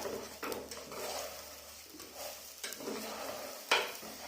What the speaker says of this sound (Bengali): এবার আবার নেড়ে নেব